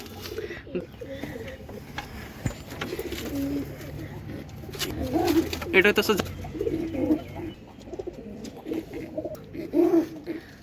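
Jalali pigeons coo in soft, throaty bursts close by, repeating several times while someone talks briefly over them.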